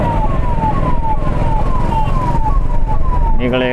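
An ambulance siren wails in busy Indian street traffic, its repeating falling tone sweeping over and over above a dense engine and road rumble, with a brief horn-like tone near the end.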